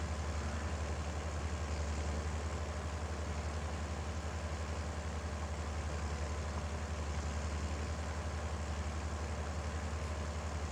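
A tractor engine idles steadily in Farming Simulator 22, a constant low rumble with a continuous mid-range hum and no change in pitch throughout.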